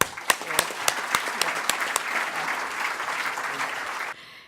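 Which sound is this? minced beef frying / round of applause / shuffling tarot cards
round of applause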